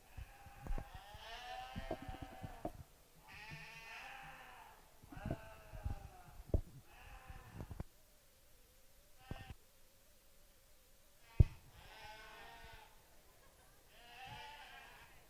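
Blackface commercial ewes bleat repeatedly at a sheep show, a series of close, loud, wavering calls from several animals with short gaps and faint hall noise between them.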